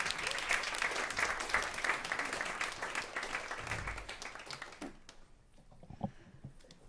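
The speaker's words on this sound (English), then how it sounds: "Round of applause for the governor." Steady clapping from a forum audience greets a governor, then fades into scattered claps and near silence in the final seconds.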